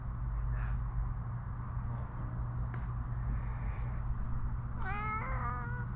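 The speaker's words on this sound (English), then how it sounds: "Come here, Smitty kittens." A house cat gives one clear, drawn-out meow near the end, over a steady low mechanical hum that runs throughout.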